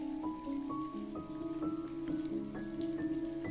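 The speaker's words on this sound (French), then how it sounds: "Cette pluie qui tombe te rend joyeux." Steady rain falling outdoors, a continuous soft patter that runs beneath gentle sustained musical tones with slowly changing notes, with no voices present.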